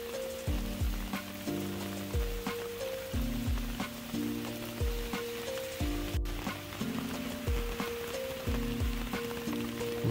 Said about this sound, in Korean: 비가 오는 날이라 더욱 운치 있습니다.